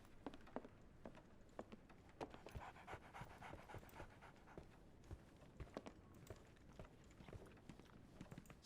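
A dog pants in the video game Sherlock Holmes: The Awakened, with quick rhythmic breaths close by, mixed with light pattering footsteps, quiet overall.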